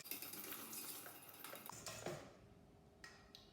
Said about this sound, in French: on mélange le tout avec notre petite cuillère magique